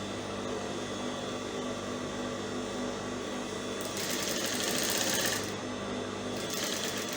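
Sewing machine running steadily as it stitches a zipper onto tulle mesh net fabric, a continuous close whirring hum that intensifies briefly partway through.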